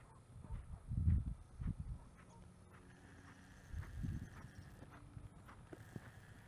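A horse canters in a riding lesson, its hoofbeats coming as soft, muffled thuds in two faint clusters over low background noise.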